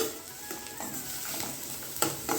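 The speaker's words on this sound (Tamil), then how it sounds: "இந்த வெங்காயம் நல்லா பொன்னிறமாகிற அளவுக்கு வதக்கி எடுத்துக்கலாம்" A medium-sized onion sautéing in a pan, a fairly quiet, even sizzle with a few stirring scrapes and light knocks, heard alone.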